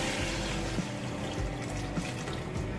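About a liter of water is poured into a pot of browned mutton for Hyderabadi haleem, making a steady, continuous splashing stream that lasts the whole moment with no talking.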